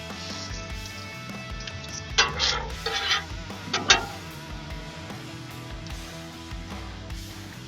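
Chicken tinga quesadillas with salsa verde fry on a Blackstone griddle in a steady sizzle, broken by a few sharp scrapes and clinks of a spatula on the flat top.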